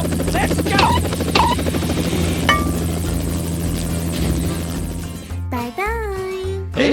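A cartoon helicopter sound effect: a loud, steady buzzing rotor drone running throughout, with children's voices and chirpy character sounds over it, ending in bright warbling synth tones.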